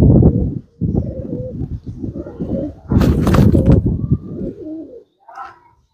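Pigeons in a rooftop loft coo in deep, throaty rolling bursts, loud and close, with a few higher chirps near the end and no talking.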